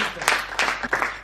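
A hall audience claps to welcome a comic poet on stage, a short burst of applause with a few louder clap peaks.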